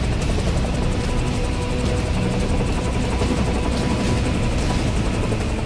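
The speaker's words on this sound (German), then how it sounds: "Die Landung eines Hubschraubers auf einem Schiff ist an sich schon eine unglaublich schwierige Aufgabe." A helicopter comes in to land on a ship, its rotor and engine making a loud, close, continuous throbbing roar with rapid steady blade pulses and no talking.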